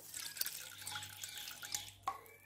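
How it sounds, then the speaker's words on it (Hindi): Water poured into a cooking pot for a jalebi sugar syrup, a quiet, close, splashy trickle with a few small bursts, heard alone. "अब मैंने एक पतीली ली है और इसके अंदर मैं पानी ऐड करती हूँ"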